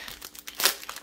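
Adhesive backing peeled off multi-layered craft flowers, a short burst of crinkly tearing and rustling at close range, loudest near the middle of a quiet, brief moment.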